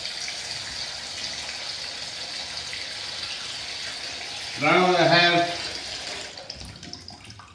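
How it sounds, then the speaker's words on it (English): Cold tap water running into a container while preparing chicken for curry, a steady hissing stream that briefly turns into a louder gurgling fill partway through before cutting off, with a voice speaking briefly over it. "We'll fill up with cold water"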